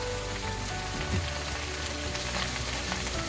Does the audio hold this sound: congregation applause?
no